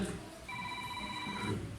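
A mobile phone ringtone sounds in a church during a Bible reading, a steady electronic tone lasting about a second against room noise and faint voices.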